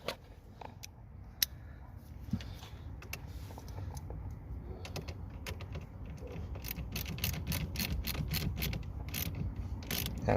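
A 12-volt battery terminal on a 2010 Toyota Prius is tightened by hand, with close, irregular metallic clicks and ratcheting taps against a low background hum, growing slightly busier toward the end.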